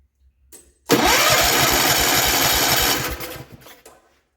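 The engine of a 1972 Gravely 432 tractor bursts into a loud, close, rough mechanical churn for about two seconds, then dies away, with faint clicks just before and after.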